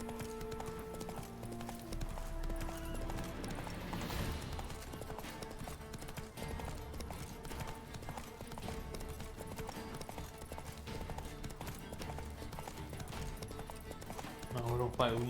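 Roach the horse clip-clops across The Witcher 3 landscape, galloping hooves steady and quick through the whole stretch, with game music and ambience underneath and a few whinnies.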